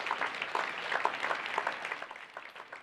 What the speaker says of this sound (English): you should all give yourselves an absolutely gigantic round of applause